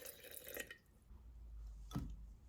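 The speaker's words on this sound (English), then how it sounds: "I'm just mixing the water with the starter before adding the flour." Water being poured into a sourdough starter in a kitchen, a faint trickle and splash with a brief louder drip near the end, quiet and close.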